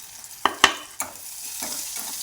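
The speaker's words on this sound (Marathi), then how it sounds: "गॅस कमीच करायचा आणि मग परतून घ्यायचा" Green chillies and onion sizzle in a pan as they are stir-fried, with a few sharp spatula scrapes and clicks over a soft, steady frying hiss.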